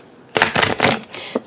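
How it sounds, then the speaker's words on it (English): Tarot cards being shuffled up close produce several quick, crisp riffling bursts separated by short pauses, ending with a light tap. "The cards were bumping, so I guess it's like, okay, done shuffling"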